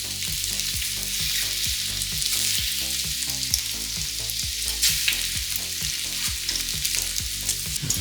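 Bacon, eggs and sausages fry on a Ninja Sizzle griddle with a steady, close sizzle and crackle, accompanied by frequent scraping and turning from a utensil, with no talking.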